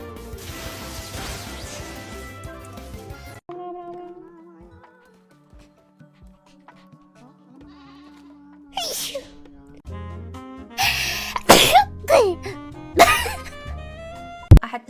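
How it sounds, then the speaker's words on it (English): A VTuber sneezes sharply several times in quick bursts after a stretch of quiet music and soft talk, the sneezes loud and close against the background. "I had to sneeze, but I feel like it's not gonna come out. Never mind, it did."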